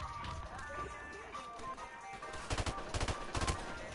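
M16 gunfire rings out in Call of Duty, with a quick burst of sharp rifle shots near the end rising over faint background game noise and low voices.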